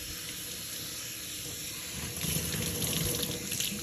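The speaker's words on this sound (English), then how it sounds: "So I just rinsed it underneath some cool water." Cool tap water runs steadily over hand-dyed yarn in a sink, a constant close hiss that turns splashier and louder halfway through.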